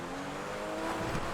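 A race car overtaking in the video game GTA 5, a brief faint engine roar with a rising whine that swells slightly toward the end, with no other sound around it.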